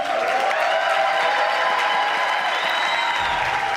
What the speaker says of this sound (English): A round of applause to Hastings Nklale